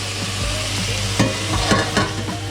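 Meat for moussaka frying in a pan, a steady sizzle broken by several sharp scrapes and knocks of a utensil stirring, with no talking.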